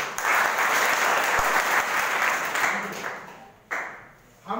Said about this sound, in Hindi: इतनी कंजूसी थोड़ा जोर से बजा लो